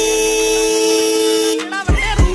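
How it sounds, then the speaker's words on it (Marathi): An antique Hero Splendor motorcycle fitted with a touch sensor sounds its horn in a sustained, steady tone for over a second, then it cuts off and a voice briefly follows up close. "हात लावल्यावर कसं ते आता ऑटोमॅटिकली आणि हॉर्न वाजतात हे बघा"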